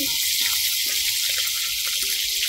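Mustard seeds, cumin, curry leaves and tomato sizzle in hot oil in a pan for a traditional festival vegetable dish, a dense continuous frying hiss with faint crackles, no talking.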